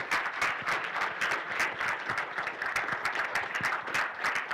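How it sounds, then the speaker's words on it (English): An audience at a hackathon's final presentations and awards gives the organizers a round of applause, dense steady clapping throughout, moderately loud with no talk. "let's have one more round of applause for the organizers"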